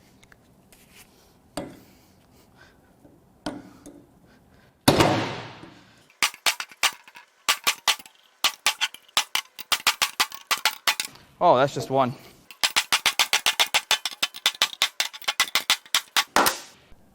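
A hammer strikes a socket on the valve springs of a Honda J35Z8 cylinder head, first in a few isolated blows, then in rapid, repeated bursts of sharp clanks, with a brief spoken remark.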